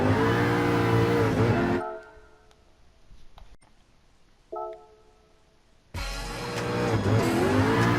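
Group C race car engines in Gran Turismo Sport, loud roaring revs that cut out to near silence with a brief tonal blip, then the engine roar returns strongly.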